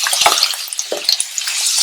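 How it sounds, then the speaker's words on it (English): Giant oyster mushroom pasta stir-fried in a hot pan gives a close, bright, continuous sizzle, with brief scraping clatters as it is tossed and stirred. "I'm just going to keep stir frying this."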